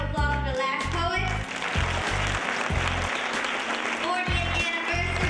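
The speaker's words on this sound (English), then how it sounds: "Give a round of applause for the last poet." Applause from an evening poetry-and-activism audience greets a poet, a broad dense wash of clapping running throughout over a steady low musical backing with strong rhythmic bass.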